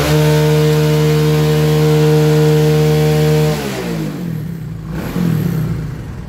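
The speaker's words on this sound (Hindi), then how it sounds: "हम स्टार्ट करके दिखाते हैं कितना धुआं मार रही है।" A smoky Bajaj Vikrant 150cc motorcycle engine due for an overhaul runs loud and close with a steady droning buzz, then its pitch drops and wavers roughly as the revs change.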